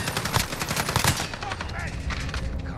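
A rapid burst of STG77 assault rifle fire rattles out in Call of Duty Modern Warfare, loud and dense, then trails into quieter game ambience.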